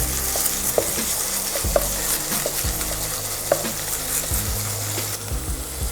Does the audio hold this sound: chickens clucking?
no